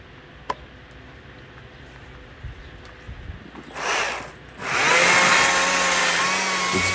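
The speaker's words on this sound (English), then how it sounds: "the chainsaw, at the flick of a switch, it's right there, it's ready, and you can go ahead cutting" Stihl MSA 120 C-B 36 V battery chainsaw with a 12-inch bar whirring up for a short burst, pausing briefly, then running steadily at close range with a high electric whine.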